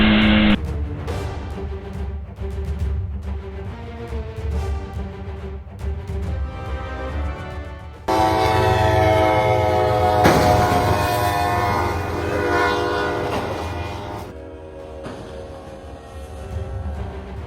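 A heavy train blasts its horn in long sustained tones, loud and close, over rumbling rail and traffic noise, with a dense, swelling burst in the middle of the sequence.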